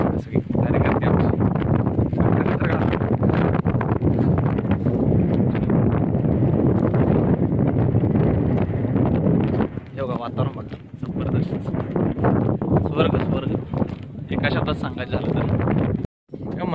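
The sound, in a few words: strong wind on a hilltop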